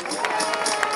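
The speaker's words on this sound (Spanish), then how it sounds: "Un aplauso para ellos." Audience applause for the sound crew at an outdoor festival concert during the San Antolín fiestas in Palencia, a dense, steady patter of many hands clapping with some cheering and a voice over it.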